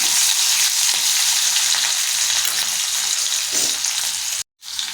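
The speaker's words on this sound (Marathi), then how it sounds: "लगेच हिरवी मिरची टाका हिरवी मिरची लसूण छान असं परतून घ्या" Garlic and green chillies sauté in a pan, a loud, dense, continuous frying sizzle close by that cuts out abruptly near the end, then resumes.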